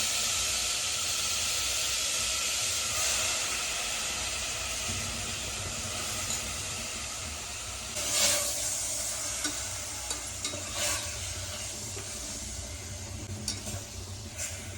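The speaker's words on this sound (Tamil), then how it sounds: "இப்போ நம்ம க்ளீன் பண்ணி வச்சது குடலை இதில் போட்டுக்கலாம்" Cleaned goat intestines cook in an onion masala in a pan for a kudal kuzhambu curry, making a steady hissing sizzle, with a louder clattering stir around the middle and a few faint knocks later.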